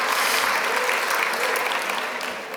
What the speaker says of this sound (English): We'll applaud that.